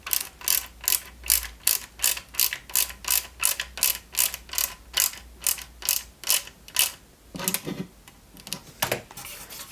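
A small AP screw is driven into the footrest of a 1/8 scale Nissan Skyline GT-R model, making a long run of crisp, evenly spaced ratcheting clicks up close that slow and become uneven at the end, with no talking.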